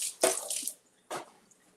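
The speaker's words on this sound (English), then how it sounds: "Let me just rinse this off." Tap water splashes in two short bursts while vegetables are rinsed in a kitchen sink, a loud broadband gush followed by a quieter second splash, no talking.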